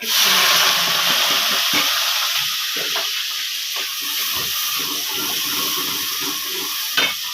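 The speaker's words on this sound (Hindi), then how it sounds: "तो ऑयल हमारा गर्म हो गया, इसके अंदर हम लोग ऐड कर देंगे प्याज।" Onions sizzle loudly as they fry in hot oil for Punjabi dal, giving a steady close hiss with occasional stirring clicks and scrapes and no talk.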